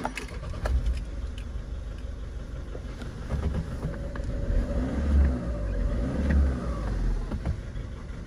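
A VW Caddy 1.6 engine misfires on three cylinders with a dead cylinder four, idling with an uneven, lumpy note and periodic low thumps and jolts over about eight seconds.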